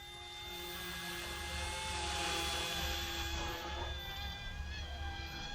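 An Eachine E120 RC helicopter hovers and holds altitude, its small rotor and motor giving a steady high whine with bright tonal harmonics that swell slightly and stay close throughout.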